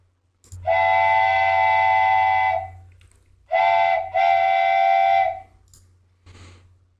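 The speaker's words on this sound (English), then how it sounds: "here we have our train whistle" A bright, multi-tone wooden train whistle blows one long blast, then two shorter blasts close together, loud and clear with a faint low hum beneath.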